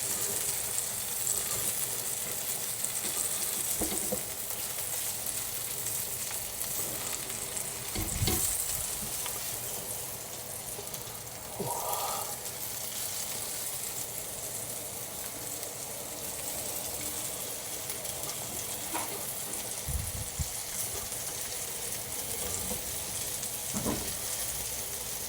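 Gammon steaks frying in a pan, a continuous soft sizzle with occasional louder spits and scrapes of stirring, close and steady throughout.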